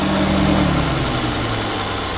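A Mitsubishi Lancer Cedia GT engine idles steadily right after a compressor install, a smooth, even mechanical hum with constant low rumble, close and alone, no talking.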